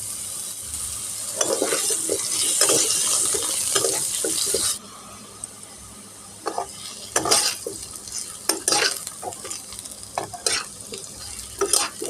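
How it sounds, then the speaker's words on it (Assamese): Potatoes fry in hot oil with a steady hiss for several seconds. The sizzle then drops lower, broken by sharp scrapes and clinks of stirring. "এতিয়া মই আলুটো ভাজি ল'ম।"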